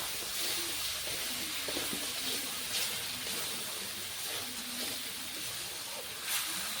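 Hot oil hisses loudly as ground tomato, white sesame and green chilli pastes mixed with sour yogurt go into the pan, making a broad steady steam-like hiss with a few soft bumps and no speech.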